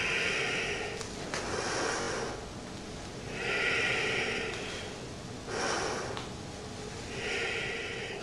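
Slow, deep yoga breathing during a low-lunge sequence: long airy inhales and exhales alternate in a steady rhythm, close and clear with no talking.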